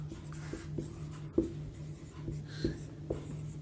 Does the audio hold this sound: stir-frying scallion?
no